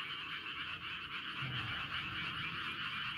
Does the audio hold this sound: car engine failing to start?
no